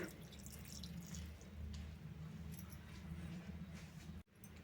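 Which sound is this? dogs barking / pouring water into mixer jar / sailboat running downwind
pouring water into mixer jar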